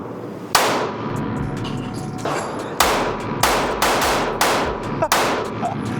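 Loud, sharp pistol shots from a Glock fitted with a side-ported slide, six reports spaced unevenly over a few seconds, each with a ringing tail over steady background noise.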